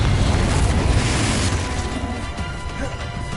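A Confringo spell explodes in Hogwarts Legacy, a loud broad booming blast with crashing debris that fades into a rumbling tail, with a voice shouting spell names over it.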